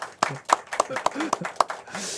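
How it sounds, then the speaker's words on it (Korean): A church congregation at a Sunday morning service claps in welcome, with about nine sharp, evenly spaced claps in a steady rhythm over a couple of seconds, mixed with talking voices. "우리 박수하면서 환영하도록 하겠습니다"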